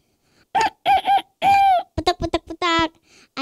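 A voice imitates a rooster crowing in a children's story, a string of loud, close, stretched calls with short clucking bursts between them.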